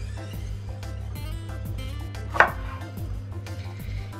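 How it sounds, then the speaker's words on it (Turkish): A kitchen knife chops bell peppers into quarters on a cutting board, a run of quick, regular tapping strokes with one sharper knock partway through, over a low background hum. "Biberleri ben 4'e bölmekten tarafım."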